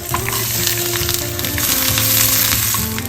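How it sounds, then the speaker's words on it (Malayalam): Small coconut pieces sizzle and crackle in hot oil, a loud, steady frying hiss with occasional pops and faint stirring. "ഇപ്പം എണ്ണ നല്ലോണം ചൂടായി കഴിഞ്ഞ് അതിനകത്തോട്ട് പിന്നെ തേങ്ങയുടെ ചെറിയ കഷ്ണങ്ങളെ ഇട്ടൊന്ന് വറുത്തെടുക്കാം"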